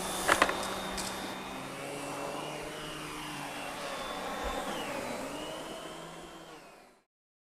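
An SEB 236 upright vacuum cleaner runs with a steady whirring motor drone and airflow hiss, moderately loud and alone, then cuts off abruptly near the end.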